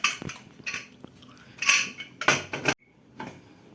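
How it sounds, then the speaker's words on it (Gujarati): Metal clanks and scrapes as a pressure cooker lid is fitted and locked in a home kitchen, a handful of sharp close clinks and rattles in quick succession followed by a short hush. "ફાઇનલી કુકર કરી દીધું છે બંધ"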